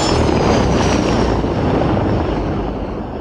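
A Su-25 ground attack aircraft roars past in a broad, loud jet rush that holds steady and then slowly fades, with no voices.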